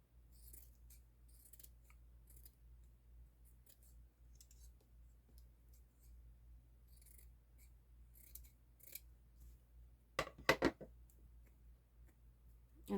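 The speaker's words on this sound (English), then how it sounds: "strips of lace like this that's been cut, so I'm going to cut this." Scissors snipping through strips of lace, a faint quiet stretch with a few sharp close cuts near the end.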